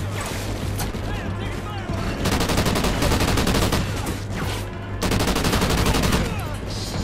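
Rapid automatic gunfire in the Call of Duty: Ghosts shooter game, dense bursts of crackling shots rattling continuously, loud and close, with a game soundtrack and effects beneath.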